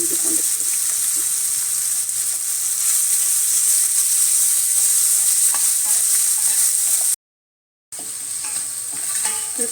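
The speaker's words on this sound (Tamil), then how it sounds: "இது கொஞ்சம் நல்லா வதங்கணும்." Small onions fry in a pan with ginger garlic paste for a South Indian chicken dish, giving a steady close sizzle with stirring scrapes that breaks off briefly near the end and then resumes.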